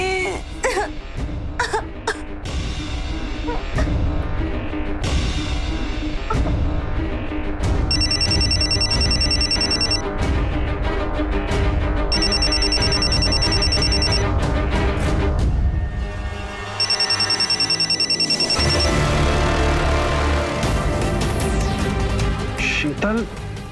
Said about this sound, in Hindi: शीतल, फोन उठाओ